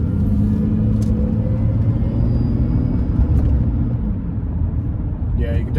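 An Aston Martin DB7 with its inline six-cylinder engine gives a short, brief blip of revs, a loud low rumble that stays steady and close with little rise in pitch, under a noisy background.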